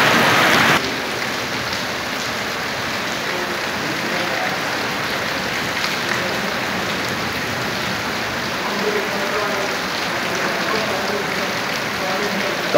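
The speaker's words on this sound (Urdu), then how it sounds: "کافی سپیڈ سے لگی ہے جی بارش" Heavy rain falls during a storm in Taxila, Pakistan, a dense, loud, continuous hiss and patter that stays steady throughout.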